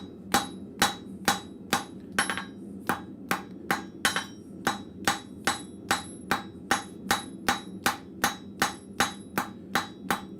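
Blacksmith's hammer striking hot metal while drawing a square taper at a forge, a steady run of about twenty sharp, ringing blows at a brisk even rhythm, close and loud, with no talking.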